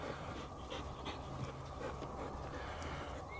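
A dog pants rapidly and steadily close by during rat catching, its quick breaths soft and continuous over a low outdoor hum.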